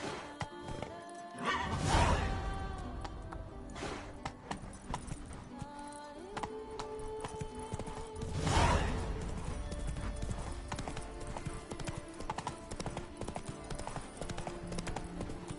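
Roach the horse gallops in The Witcher 3 with a steady, continuous clip-clop of hooves under game music and ambience, plus a couple of whinnies.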